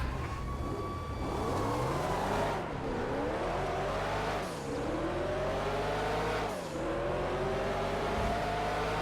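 A powerful race car engine in the GTA FiveM game, an old-school Le Mans racer, revs loudly and continuously, its pitch sweeping up through the gears and dropping at each shift.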